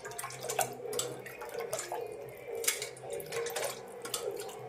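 Buttermilk curry (moru curry) pours and splashes onto rice in a steady liquid stream, close and fairly quiet, with small drips and no voices.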